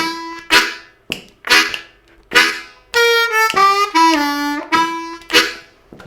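Chugging lick played on an A harmonica, with rhythmic breathy chord chugs alternating with clear sustained and bending single notes, close and fairly loud with no talking.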